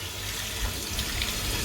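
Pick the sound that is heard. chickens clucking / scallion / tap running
tap running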